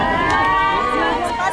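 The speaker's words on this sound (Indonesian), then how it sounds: "Momen ini langsung disambut tepuk tangan dan sorakan hangat dari WNI." A crowd of Indonesian citizens applauds and cheers warmly, a loud, steady wash of clapping and voices with shouts rising over a dense babble, close and sustained throughout.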